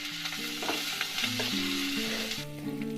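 Onions fry in oil in a wok with a constant close sizzle, while spatula stirring adds scraping strokes throughout; a steady low hum sits underneath and no one speaks.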